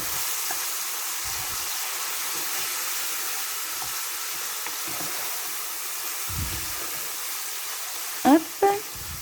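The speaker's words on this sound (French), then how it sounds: "Histoire de le griller un petit peu, enfin le griller, le faire dorer un petit peu." Food frying and browning in a pan on the stove while cooking lentils, giving a steady soft sizzle throughout with a few brief louder clatters near the end.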